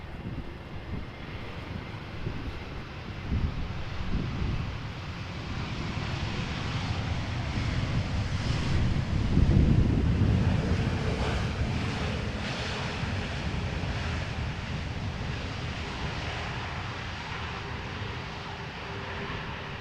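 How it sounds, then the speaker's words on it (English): An EasyJet Airbus A320neo arriving at Amsterdam Schiphol from Pisa, its engine roar swelling to a peak and slowly fading over a steady wind-blown background rumble. "This is Easyjet arriving from Pisa,"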